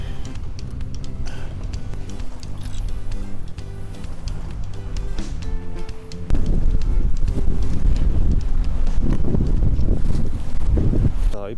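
Steady wind buffets the microphone at a seaside fishing spot, a loud continuous rumble that grows stronger partway through, with no voices.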